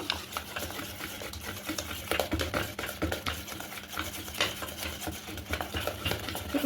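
Spoon stirring a thick malpua batter of palm fruit pulp, sugar and semolina in a bowl, steady scraping and sloshing strokes, close and quiet, with no talk.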